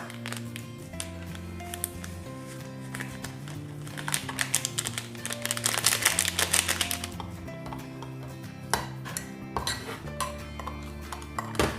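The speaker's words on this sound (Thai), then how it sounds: "เสร็จแล้วเราก็คนให้เข้ากันค่ะ" A spoon stirs Nesvita drink mix in a glass, with a close, busy run of clinking, tapping and scraping against the glass, picking up in the middle before settling into sparser taps.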